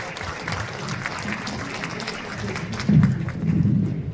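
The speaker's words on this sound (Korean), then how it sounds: "여러분 뜨거운 환영의 박수로 맞아주시기 바랍니다" An audience at a lawmaker's parliamentary report meeting in Cheongju welcomes lawmaker Lee Kwang-hee with steady clapping that swells near the end, with faint murmuring voices in the hall.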